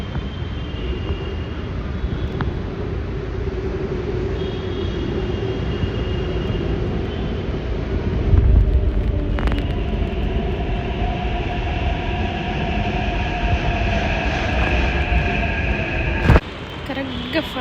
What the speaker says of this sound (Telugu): ఎగ్జాక్ట్గా ఫైవ్ మినిట్స్ దాటనీయకుండానే ట్రైన్ అయితే వచ్చేసింది